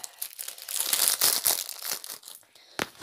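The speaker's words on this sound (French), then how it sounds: "Attendez, je vais le déballer une seconde." Crinkly plastic packaging is torn and crumpled open to free a new keychain bought at a trade fair, close and loud bursts of rustling and tearing with brief pauses.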